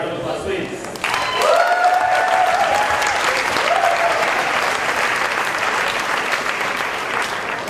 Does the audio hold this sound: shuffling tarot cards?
no